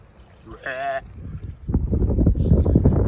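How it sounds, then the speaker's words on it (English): Gusty outdoor wind buffets the microphone while fishing for bass on the water in New Hampshire, a low rumbling roar building over the second half after a short vocal sound. "Wind has really picked up"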